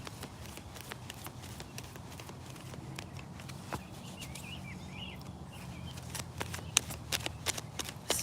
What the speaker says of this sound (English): And I would shuffle the other way, but this deck is too big for my hands.